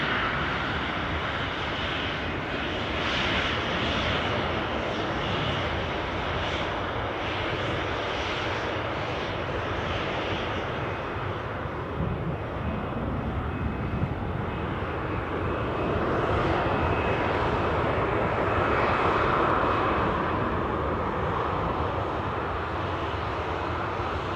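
Steady, loud roar of a Ryanair jet airliner at Newcastle airport, a continuous engine rumble and whoosh holding for the full stretch and swelling slightly near the end, with no talk over it.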